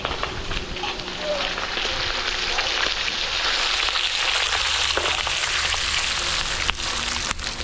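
Beef frying in butter in a pan at a catering cook-out at a private resort, a steady dense sizzle running throughout with a few faint clinks and soft voices beneath.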